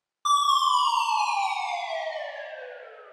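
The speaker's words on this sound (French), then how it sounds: "Et un deuxième FX, qui est une sirène en fait," A siren sound effect in a French rap beat gives one sharp onset and then a long, steadily falling wail that slowly fades, heard alone.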